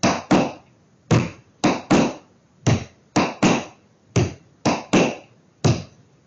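Tap shoes strike a hard floor in flap and heel drop steps, producing sharp close clicks in quick pairs that repeat in a steady rhythm with brief silences between.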